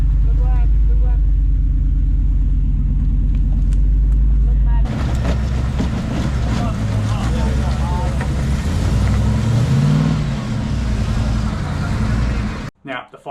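A 4WD engine labouring up a steep rocky off-road track on the Yalwal trail, a loud close idle that rises into revving strain, with a spotter calling out over it.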